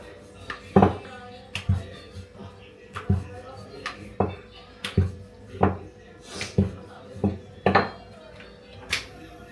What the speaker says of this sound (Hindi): अभी मैं आई हूँ बर्तन धोने के लिए।